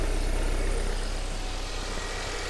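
A diesel car engine idles with the bonnet open, a steady low rumble and broadband hiss, close and continuous, no voices.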